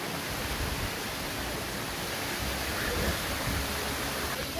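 Small waterfall beside a snowy mountain road in Kurung Kumey, Arunachal Pradesh, a steady broadband rush of falling water, constant and fairly close with no clear talk over it.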